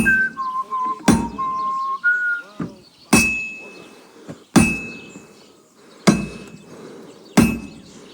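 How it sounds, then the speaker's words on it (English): Blacksmith's hammer strikes a workpiece on an anvil in the video game Kingdom Come Deliverance II: about six sharp, ringing metallic clangs spaced roughly a second apart, with a short whistled tune at the start. "You've got to hammer the workpiece evenly. One hit next to the other."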